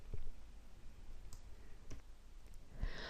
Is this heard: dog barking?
no